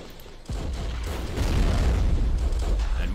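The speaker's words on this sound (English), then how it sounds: "That mortar is still coming in very useful." Mortar fire in Battle of Empires 1914-1918 at the Battle of Gallipoli: a sudden heavy boom at the start, then a second swell, both settling into a dense, sustained rumble of battle noise.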